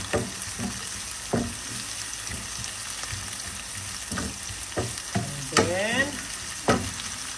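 Onion sizzles steadily in a hot pan, with intermittent scraping strokes of a utensil stirring it; quiet, close cooking sounds with no talking.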